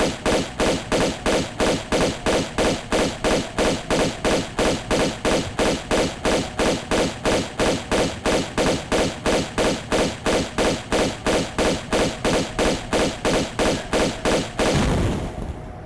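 Automatic gunfire from Tomb Raider 2 Remastered on New Game Plus, a loud, steady string of evenly spaced shots, roughly three per second, running for about fifteen seconds before stopping abruptly.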